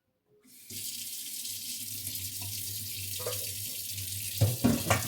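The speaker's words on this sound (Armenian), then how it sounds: "Հիմա կանաչ բողկը պետք է սառը ջրով լավ լվանա։" Green radish being washed under cold water from a kitchen sink tap, a steady close rush of running water for the whole span, with a few louder splashes near the end as the radish is handled in the stream.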